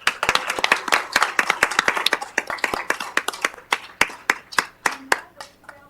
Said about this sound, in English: I think we're supposed to now go yippee and clap.